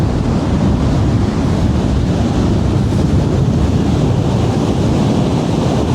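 Steady, close roar of ocean surf at a beach as the tide goes out, with continuous wash and some wind rumble and no clear breaks between waves.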